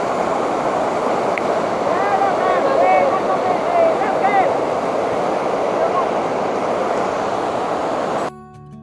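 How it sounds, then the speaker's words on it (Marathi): A monsoon-swollen waterfall and stream on the Visapur Fort trek pour in a steady, loud broadband rush, with faint bird whistles above, until the sound drops off abruptly near the end. "पावसामुळे सगळे वॉटरफॉल ऍक्टिव्हेट झाले,"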